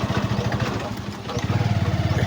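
A motorcycle engine putters with a steady low throb nearby, rumbling continuously under wind and faint background voices.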